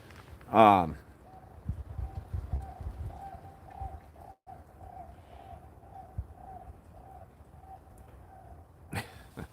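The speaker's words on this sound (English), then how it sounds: "I like bird sounds." A bird calls outdoors in a quiet setting, a brief trilling burst near the start followed by soft repeated notes, with faint voices murmuring underneath.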